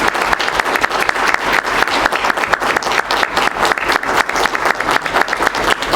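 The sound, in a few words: applause for Mason Knight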